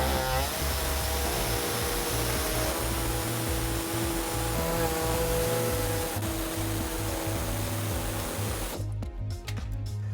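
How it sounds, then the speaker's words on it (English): An air saw cuts a hole in the plastic underbody panel of a 2004-2020 Toyota Sienna during trailer hitch installation, a loud continuous buzzing rasp with a low pneumatic hum, ending in sputtering bursts as the air cuts off. "we're going to use an air saw and we're going to cut out this hole"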